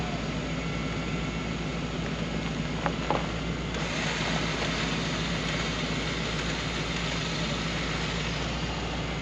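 Camper van engine running steadily while the van backs up off the road, a loud, broad drone that fills the clip with only faint knocks beneath it.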